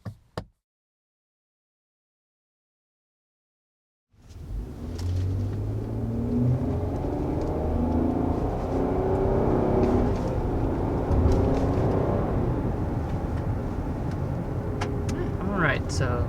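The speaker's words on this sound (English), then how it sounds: "that was our first acceleration with this 2021 Nissan Murano" A 2021 Nissan Murano with a 3.5-liter V6 accelerating: after a few seconds of near silence, a steady engine roar rises and holds, heard from inside the cabin.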